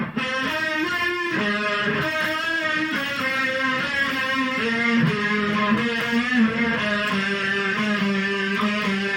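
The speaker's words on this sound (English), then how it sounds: "So here's distortion and chorus together." Electric guitar played through distortion and chorus pedals at once, a thick sustained chordal tone with a shimmering wobble, loud and continuous with no talking over it.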